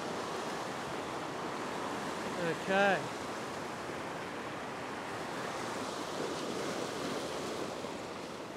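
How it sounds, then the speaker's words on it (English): Ocean waves wash steadily onto a rocky shoreline at night, a constant broad roar with a brief spoken word partway through. "the waves and the wash are washing my bait towards me a little bit"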